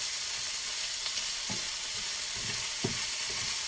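Shrimp fry in a pan with a steady, close sizzle, broken by a few soft clicks and scrapes of stirring, and no voices.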